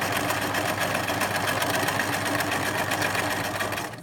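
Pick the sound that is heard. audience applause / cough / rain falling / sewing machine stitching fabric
sewing machine stitching fabric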